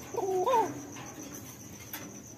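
Lal Chulli fancy pigeons coo at a bird sale, one soft rising-and-falling coo close by near the start, then faint chirps over a steady background hiss.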